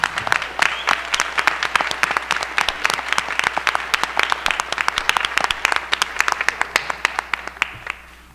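A school board meeting audience gives a round of applause for the robotics team, a dense sustained patter of many hands clapping that holds steady and then tapers slightly at the end.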